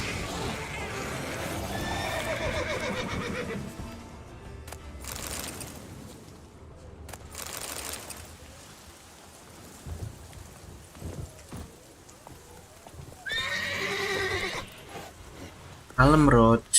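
A horse whinnying and hooves in The Witcher 3: Wild Hunt, heard amid rain and rumbling game ambience, with a louder burst near the end and a player talking over parts.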